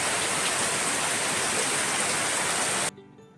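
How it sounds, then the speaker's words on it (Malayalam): Steady, dense rain pours down at close range as a continuous hiss through most of the clip, then cuts off abruptly near the end, leaving near silence. "പിന്നെ മഴയും കൂടി വന്നപ്പോൾ അടിപൊളിയായിരുന്നു"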